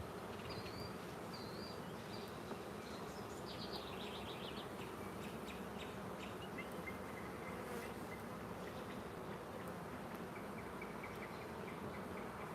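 Agitated honeybees swarm during a hive inspection, a dense continuous buzz filling the whole stretch at steady level, with a few faint higher chirps over it and no talk.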